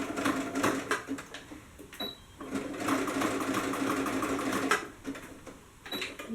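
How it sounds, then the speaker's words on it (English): A sewing machine stitches a small pocket seam for paper-bag style pants, running steadily and close with a brief pause near the two-second mark before the whirring stitching resumes. "You're going to sew that up in there."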